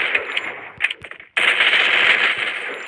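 Rapid automatic gunfire from a shooting video game during a one-on-one match, a dense loud burst that breaks off briefly and then resumes as a sustained stream of shots.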